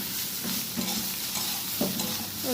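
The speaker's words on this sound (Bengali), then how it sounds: "ভালো করে একটু লাল লাল করে ভেজে নেবো সয়াবিনটা" Soybean chunks fry in oil and spices in a pan, a steady close sizzle with occasional spatula stirs scraping through it.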